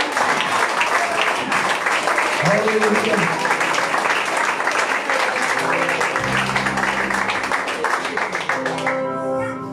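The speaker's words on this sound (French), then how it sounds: "Applaudis le Seigneur." A church congregation applauds during a service, dense steady clapping filling the room alongside voices and cries, with a held musical tone or singing emerging toward the end.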